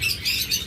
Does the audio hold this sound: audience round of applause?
no